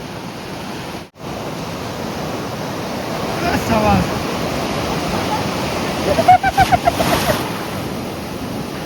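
Sea waves at Puri beach rush and wash in a steady broad roar, with a few louder surges and splashes near the end and faint voices in the background.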